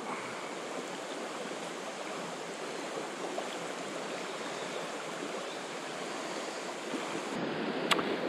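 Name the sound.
river flowing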